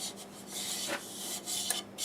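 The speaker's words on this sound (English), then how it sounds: "I'm going to start with 80 grit on the inside here" 80-grit sandpaper rubs inside a maple burl bowl on a lathe. The rasping friction is loud and close, and it swells and fades in quick repeated strokes, with no talk.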